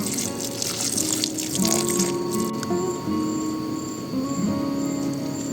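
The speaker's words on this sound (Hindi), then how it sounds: "थोड़ा सा पानी भी डाल ही देता हूँ पौधे में।" Water trickles and splashes onto the soil of a potted plant, a gentle pouring with soft squishy drips, mixed with faint tonal background hum.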